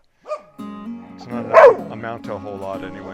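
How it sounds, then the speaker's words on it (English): Dogs bark and yip at a moderate distance, a few sharp barks and whimpers scattered under someone talking. "Sorry about the dogs barking."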